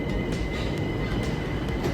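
London Overground train rumbling near Surrey Quays station, a steady low roar with rail hum and faint periodic clatter throughout.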